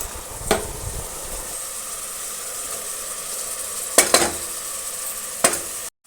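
Onion, mushroom and tomato frying in a pan for mushroom biryani, a steady soft sizzle with a few sharp clinks of a stirring utensil against the pot.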